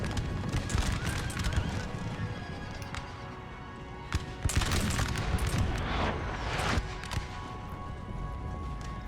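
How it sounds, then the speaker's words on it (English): An artillery hit during a Napoleonic battle in Napoleon Total War, amid constant musket fusillades and cavalry hooves, with a sharp crack and burst of impact noise midway through the dense battlefield din. "Good artillery hit right there."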